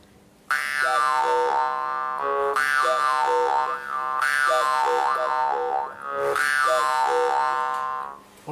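Yakut khomus jaw harp played to imitate a cuckoo, sounding three or four sustained twangy bursts with wavering overtones, close and loud, alone with no talk.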